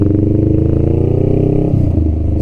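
A Honda Rebel 500 motorcycle cruising on the interstate gives a loud, close, steady engine drone mixed with rushing wind, with a brief dip in tone near the end.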